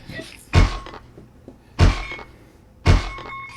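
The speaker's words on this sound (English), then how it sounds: "So once again, they brought out the sledgehammer." A police sledgehammer strikes a door three times, each blow a loud, heavy thud with spaced pauses between, close by with little else audible.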